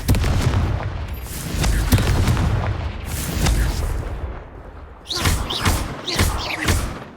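Confringo blasting spell explosions in Hogwarts Legacy, repeated loud booms and thuds in quick succession amid combat clatter, with a burst of sharper crackling blasts near the end.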